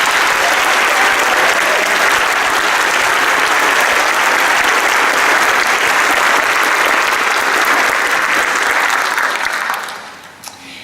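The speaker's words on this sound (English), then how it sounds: "Would you please stand so that we can give you a round of applause?" Loud, sustained audience applause at a high school academy commencement ceremony, a dense wall of clapping in a large hall that fades out near the end.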